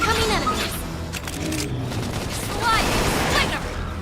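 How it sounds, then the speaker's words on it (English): Gunfire in the video game Xenoblade Chronicles X, a dense continuous barrage of blasts and booms filling the scene, loud and sustained, with speech mixed into the battle noise. "Try toppling it with gunfire"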